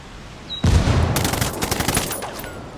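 Ghost War match: a sudden loud burst of rapid automatic gunfire starts after a quiet moment and keeps rattling for about two seconds, close and dominant with no talk over it.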